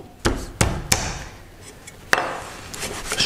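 A knife chops garlic on a cutting board, four sharp separate knocks at an uneven pace, close and clear against a quiet kitchen background.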